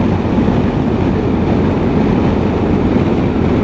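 Strong wind roars steadily across the microphone while riding a BMW R1250 GS Adventure motorcycle along a Spanish coastal road, a loud continuous rushing buffet with no pauses and no voices.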